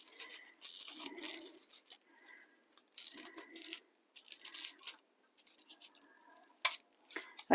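Paper being cut with scissors along a wobbly line, close and quiet, in a run of short crisp snips and slicing bursts with brief pauses between strokes.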